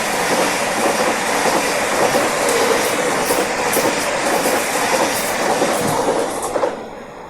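Greater Anglia passenger train on the West Anglia line running steadily along the rails, a continuous loud rumble and hiss with faint rhythmic clatter throughout, no voices.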